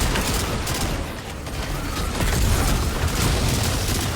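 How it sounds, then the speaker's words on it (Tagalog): Explosion during a Destiny 2 dungeon run, heard as dense, sustained loud rumbling and crackling blasts with no clear gaps, like continuous weapon fire mixed with booms. "Oh, sumabog yun."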